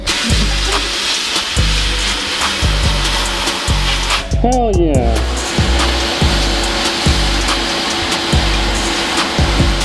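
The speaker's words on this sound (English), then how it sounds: "we should be ready to test the sandblaster" Loud continuous hiss of a sandblaster running, with a brief burst of air and a short exclamation from a voice midway.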